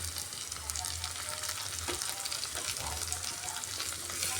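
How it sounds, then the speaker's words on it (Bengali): Chopped tomato frying with browned onion and ginger in a pan, a continuous close sizzle with soft stirring movements, alone without voices. "টমেটোটা দিয়ে আবার একবার ভালোভাবে কষিয়ে নিতে হবে যতক্ষণ না টমেটোটা গলে যায়"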